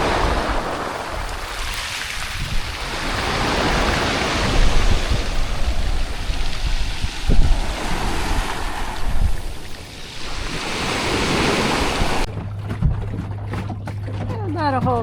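Ocean waves rolling back and forth on the Block Island shore, a loud, steady wash of surf with light wind noise, briefly giving way near the end to a quieter hum.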